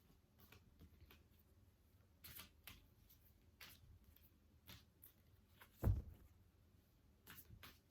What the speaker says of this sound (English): I'm just trying to shuffle it properly